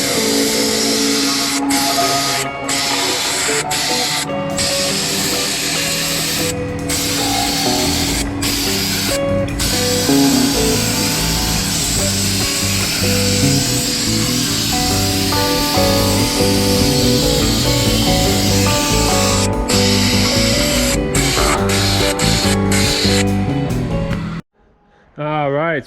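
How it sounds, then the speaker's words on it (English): Repeated bursts of hissing spray as cleaner is applied to outdoor wood boiler fittings, the sharp sprays coming near and loud over a constant background hum, then a brief silence and a clatter at the end. "We're gonna spray these fittings."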